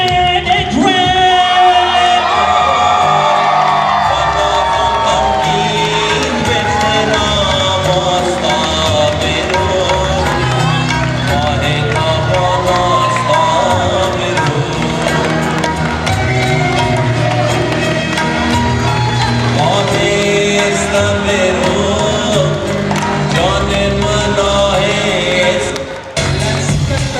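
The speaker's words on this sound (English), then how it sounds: "Put your hands together for Anita and Idrees!" Wedding reception guests cheering and applauding the newlyweds, a loud sustained crowd roar with whoops and shouts over music, steady for the whole stretch.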